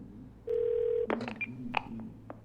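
A phone dials an emergency call in the game Twelve Minutes, with a steady tone followed by a quick run of short electronic keypad beeps, clear and close with no talk.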